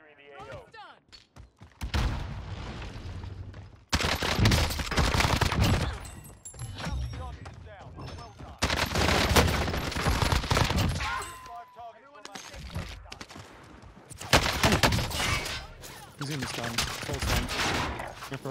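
Bursts of AMAX assault rifle fire from Call of Duty Warzone come in several loud, sustained volleys separated by short quiet gaps. A voice talks between the bursts.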